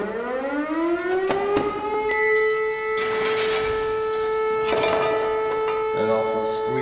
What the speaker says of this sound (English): I need to hear that siren.